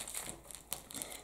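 A ripe banana being smashed and squeezed inside a sealed plastic bag, giving faint, close crinkling and rustling of the plastic in short irregular bursts, with no talk.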